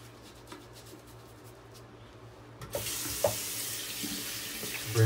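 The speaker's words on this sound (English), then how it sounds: "Rinse off my hands," Tap water runs steadily into a sink while hands are rinsed after shaving with a lavender soap, quiet at first, then a louder, fuller gush with a few splashes toward the end.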